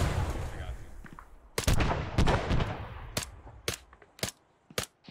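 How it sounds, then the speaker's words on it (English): Gunfire in the military shooter game ArmA 3: a dense noisy barrage gives way to several sharp, loud single shots spaced irregularly, each cracking out and fading quickly. "I'm shooting, Tuck."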